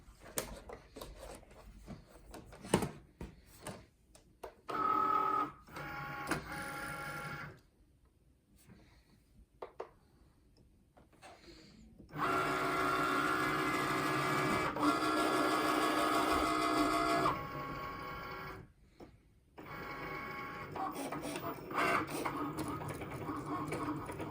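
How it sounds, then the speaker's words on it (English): A Cricut cutting machine working on faux leather gives bursts of mechanical whirring and carriage movement with ticking and clicking. The bursts are separated by quiet pauses, and a voice talks briefly. "now I can go ahead and put it into my Cricut machine"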